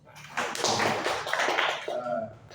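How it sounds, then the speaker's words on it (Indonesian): A classroom group breaks into applause, a short burst of dense clapping that swells quickly and then thins out, with voices mixed in. "beri aplaus"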